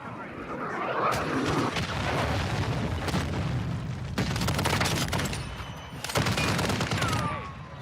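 Incoming cruise missile killstreak in Call of Duty: Modern Warfare II (2022) during a Hardpoint match, heard as heavy booms and rolling explosive blasts over continuous gunfire and battle noise, with voices talking throughout.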